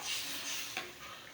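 A flour and gundruk (fermented leafy greens) mixture with added water being stirred in a hot pan, giving a soft continuous scraping and sizzle, close and fairly quiet, with a brief louder scrape midway and no talk.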